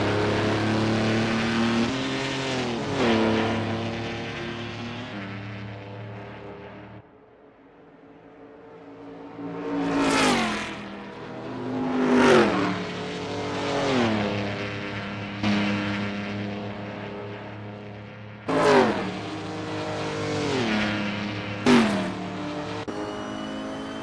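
Historic race cars battle for position in Assetto Corsa, engines roaring loudly and continuously, with repeated revving surges and upshifts as cars pass close by, no talking.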